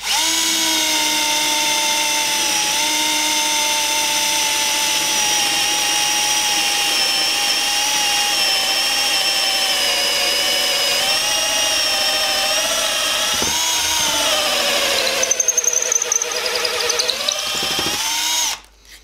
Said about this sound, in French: Donc là, on vient de faire un perçage d'à peu près 5 cm.